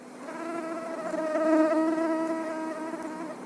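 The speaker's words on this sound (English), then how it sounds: "Mosquito." A mosquito's steady, thin whine with strong harmonic overtones, close and continuous for a few seconds, swelling slightly in the middle before easing off.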